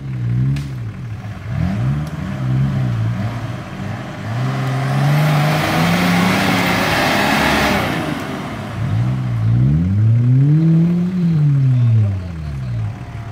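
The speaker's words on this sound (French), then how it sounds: "il n'y a qu'une roue qui patine" A vehicle with one wheel spinning revs hard, its engine pitch climbing and falling in repeated surges with a loud whining hiss of slipping tyre in the middle, close and continuous.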